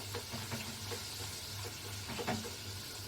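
Matar kachuri, pea-stuffed bread, frying in hot oil, giving a steady soft sizzle with faint bubbling and small crackles throughout, low and continuous with no voices.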